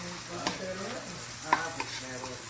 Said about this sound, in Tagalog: Lagay natin yung luya.